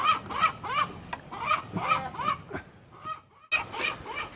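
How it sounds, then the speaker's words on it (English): An outdoor bird, heard near a farm yard where eggs are gathered, gives a series of harsh, raspy, honking calls in quick bursts, loud and close, with a short pause before a final run of calls. "Listen to that bird."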